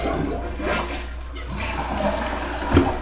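A water-efficient toilet flushes nearby with a rushing swirl of water that carries through the whole clip and ends in a brief gurgle as the bowl clears.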